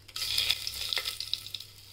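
A bay leaf lands in hot oil already seasoned with crackled cumin, giving a bright, steady sizzle with scattered sharp pops and light stirring, close and clear.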